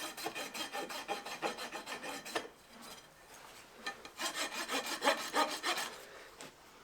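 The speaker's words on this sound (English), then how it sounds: "I'm trying to rasp the hook out of there so that way it flows just a little bit nicer." A farrier files a horse's hoof with a rasp while shoeing an eventing horse, making rapid rhythmic scraping strokes in two close bursts separated by a brief quieter pause.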